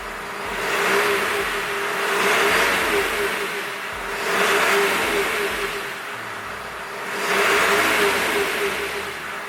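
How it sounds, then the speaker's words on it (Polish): A car engine with a damaged seal under a fuel injector rises and falls through three smooth revs, loud and steady, with a constant whine running beneath and no talk. "spróbuję dodać gazu teraz"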